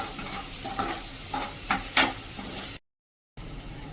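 Chopped tomato and onion sautéing in a pan for a drumstick dal dish, a hissing sizzle with several scraping stirs and clinks, close, cut by a brief total dropout near the end.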